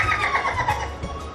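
A Chinese two-stringed erhu bowed to imitate a horse's neigh in a traditional Chinese orchestra setting, a loud, close, wavering whinny-like glide rising and falling, played alone without talk.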